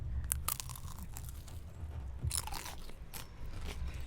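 A crunchy bite into a fried samosa filled with peas, followed by close, brittle crunching and chewing with sharp crackles throughout.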